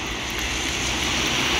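Heavy rain pours steadily during Storm Ciaran on a flooded road, making a dense, constant hiss that stays loud and unbroken throughout, with no talking.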